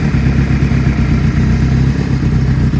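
A carbureted 2005 Honda CB500 Hornet motorcycle engine warms up with the choke off, giving a close, loud, steady idle with a throbbing low rumble and slight mechanical clatter.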